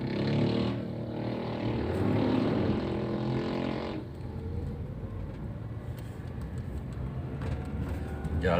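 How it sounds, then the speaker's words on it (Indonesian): A four-wheeled car drives at night along a potholed, damaged road toward Tanjakan Joglo, its engine drone and road rumble steady and close, briefly shifting in tone midway. "Ini saya mengendarai kendaraan roda 4 dengan jalan yang banyak berlubang."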